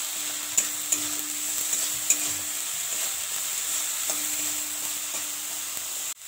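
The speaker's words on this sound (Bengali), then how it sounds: "এবার এটাকে খুব ভালো করে কষিয়ে নিচ্ছি।" Spices with salt and turmeric are stir-fried in a pan, a steady sizzle broken by several sharp spatula scrapes and taps, close up with no talking.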